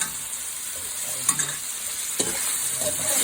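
Basmati rice and mutton frying together in a pot for pulao give off a bright, steady sizzle, with a couple of scraping stirs standing out against the hiss, close and without voices.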